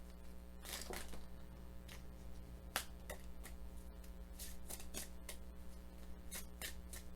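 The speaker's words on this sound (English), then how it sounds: "Two more shuffles." Tarot cards being shuffled in quick riffling bursts, a series of crisp snaps and flutters spaced across the clip over a steady low hum.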